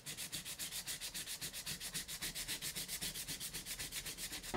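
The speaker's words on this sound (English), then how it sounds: "all I have for sandpaper are these discs that are intended for a DA sander" Hand-sanding cured JB Weld epoxy with an abrasive disc meant for a DA sander while repairing vintage wheels: a close, steady, fast back-and-forth scratching of about four to five strokes per second, with no talking.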